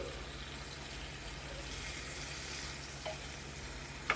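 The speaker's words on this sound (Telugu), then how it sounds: "టమాటాలు మగ్గుతున్నాయి" Tomatoes simmer and cook down in a pan for tomato pachadi, a soft, steady low sizzle and bubbling close by, with a faint clink near the end and no talking.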